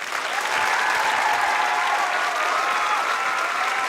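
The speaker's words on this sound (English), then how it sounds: "A special round of applause for Adam." A theater audience at a Summer Stars youth performance in Rochester applauds the artistic director, dense, loud clapping that swells quickly and holds steady throughout.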